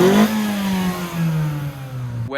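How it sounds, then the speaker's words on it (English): A Mazda 3 fitted with a ram intake and Borla axle-back exhaust is revved once, its engine note climbing then holding and easing off, a fairly close steady drone heard on its own. "Let me do a little rev of it to see if you can hear it from there."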